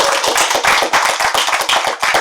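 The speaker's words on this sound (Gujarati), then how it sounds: "ખૂબ તાળીથી એમનું સન્માન કરીએ" An audience at a Gujarati literary tribute event claps in honour of the poet Kamal Vora, a loud, close crowd of hands beating in a fairly steady rhythm for a couple of seconds with no talk over it.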